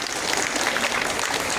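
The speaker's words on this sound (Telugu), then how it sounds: "చప్పట్లు గట్టిగా." Audience applauding at an ashram gathering honouring the swami's relatives who are IAS and IFS officers; a steady, even wash of clapping from a sizeable crowd that holds at the same level throughout, with no voices over it.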